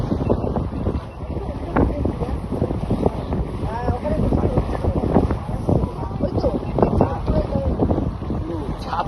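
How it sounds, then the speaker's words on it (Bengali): Strong wind blows across a river launch in the Sundarbans, a steady, loud roar of gusts buffeting the boat throughout while people talk over it. "আর এত জোরে হাওয়া দিচ্ছে"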